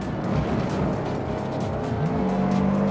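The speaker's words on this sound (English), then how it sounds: "when you go beyond that, the car just understeers massively" A car in Forza Motorsport pushed past its grip and understeering, tires squealing in a steady strained whine over the constant roar of the racing engine, the squeal climbing to a sharper, louder pitch near the end.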